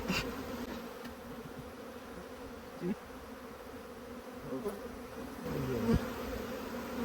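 Honey bees drone steadily at an open, smaller hive during an inspection, a dense, continuous buzz with a few individual bees passing close by.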